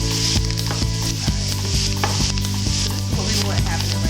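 Cinnamon and spices swirled around a hot frying pan in a home kitchen, giving a steady loud sizzle with scraping and clinking of the utensil against the pan throughout, no voices.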